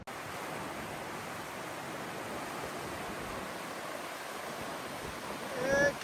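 A fairly big river rushes beneath the Interstate 40 highway along the Appalachian Trail, a steady, broad, hissing roar of flowing water that holds constant throughout and swells briefly near the end.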